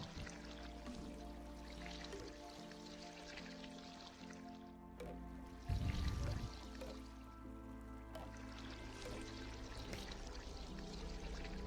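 Water being dumped in the cleanup game Spilled!, a soft pouring and dripping wash over a steady low game hum, with one brief louder splash midway, faint and with no talk.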